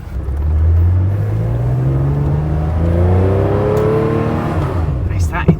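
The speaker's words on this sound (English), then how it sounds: "Induction sound, isn't it?" A modified air-cooled Porsche 911 Carrera engine pulls hard, its induction roar rising in pitch through the revs twice, loud and close from inside the car.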